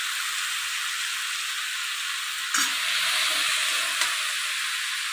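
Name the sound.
potatoes with poppy seed paste, turmeric sizzling in pan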